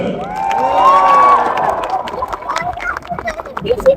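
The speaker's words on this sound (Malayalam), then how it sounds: "ഇഷ്ടമാണെങ്കിൽ വൻ കൈയടി ആയിരിക്കണം" An event audience in Oman erupts in cheering and whoops with scattered applause, loud and close, while a voice rises over the crowd noise.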